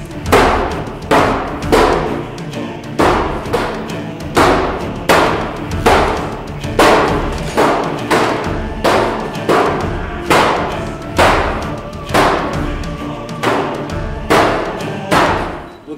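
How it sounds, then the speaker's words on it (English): A diamond-shaped mace pounds a riot shield again and again, each blow a loud, close, heavy thud, falling in a steady rhythm of about one strike per second and continuing for the whole stretch with no talk. "Now diamond shape mace."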